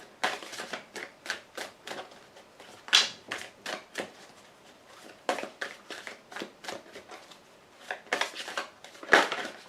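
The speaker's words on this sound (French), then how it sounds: "5 cartes vont être tirées." Tarot or playing cards are drawn for a Gemini reading, heard as a quick series of crisp snaps and flicks, close and fairly loud, coming in irregular bursts with no talk over them.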